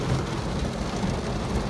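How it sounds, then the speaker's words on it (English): Heavy rain pouring steadily on a car while driving, a dense continuous loud wash with no breaks. "now we have to drive when it's pouring."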